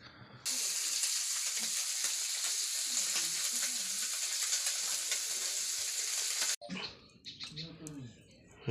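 Mustard greens frying in a pan: a loud, steady sizzle runs for most of the clip, then cuts off near the end, leaving quieter clatter and a voice talking.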